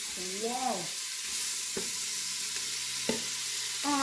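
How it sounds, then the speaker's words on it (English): Marinated tripe for Jamaican-style brown stew tripe with beans and cow head is tipped from a basin into a hot pot, giving a steady close sizzle with a few sharp clatters and a brief voice at the start. "As I am emptying my basin with my tripe in my pot"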